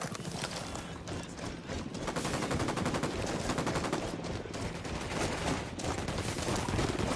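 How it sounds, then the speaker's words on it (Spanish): Rapid bursts of gunfire crackle continuously amid a busy, dense mix of mechanical clatter, loud and sustained, in a battle in the video game Ghost Recon Wildlands. "Les disparo a estos cabrones."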